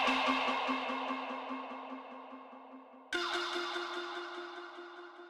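A 'hey' vocal sample from Splice, pitched to the song's key and processed with baked-in delay and pitch shift, plays soloed as two sustained, instrument-like tonal hits, each fading slowly with a smeared echo tail.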